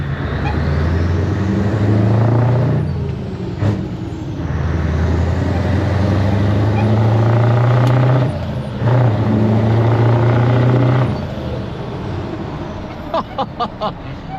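Scania 143 500 V8 truck engine pulling steadily while driving, a loud low drone heard from inside the cab with a brief dip and recovery midway, then quieter sharp knocks near the end.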